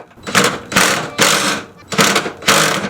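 A 12mm socket on a wobble extension works loose the exhaust bolts on a Nissan 350Z cat-back exhaust, giving loud, close bursts of rapid ratchet clicking in about five strokes with short pauses between.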